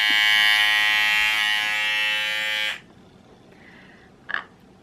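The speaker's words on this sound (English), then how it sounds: "it's an electric seam ripper." A small battery-powered electric seam ripper, like a mini clipper, buzzes loudly and steadily up close for a few seconds, then switches off, followed by a faint brief whir and a small click.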